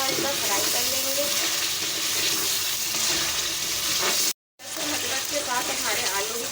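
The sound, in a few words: potatoes frying in oil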